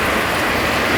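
Heavy rain falls in a dense, steady hiss with no breaks, loud and close, without any voices.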